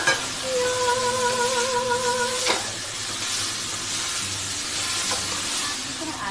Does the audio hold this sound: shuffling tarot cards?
no